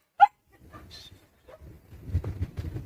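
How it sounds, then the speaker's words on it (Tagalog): A dog on Talipasak Beach in Romblon gives one sharp, loud bark, then a few softer yips and whimpers over faint background beach noise. "May makulit na aso, may makulit na aso."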